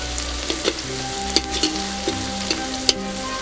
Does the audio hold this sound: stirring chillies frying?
yes